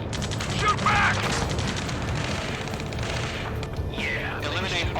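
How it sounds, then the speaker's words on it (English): Rapid gunfire and booming explosions fill a battle in the video game Ace Combat 7: Skies Unknown, with bursts of automatic fire and mechanical clatter under shouted radio chatter from in-game characters. "Return fire! Sierra 2, hold position! We're cut off! Taking fire! We're pinned down!"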